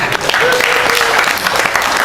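Dense clapping from an audience during a Sundanese-language religious talk, loud and continuous throughout the short burst, with a faint voice mixed in beneath.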